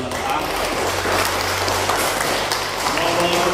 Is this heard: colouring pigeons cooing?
no